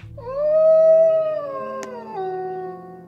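A cartoon wolf lets out a single long howl, rising and then holding a wavering tone before tailing off lower, loud and close with no talk.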